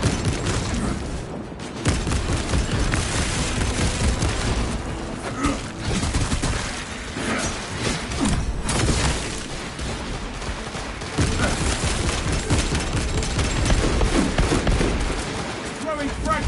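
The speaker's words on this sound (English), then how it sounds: "Deploying frag grenade." Frag grenade blasts and sustained gunfire crash through a Space Marine 2 battle, loud and dense throughout with a heavy burst near the start and repeated booms, while voice lines talk over the combat.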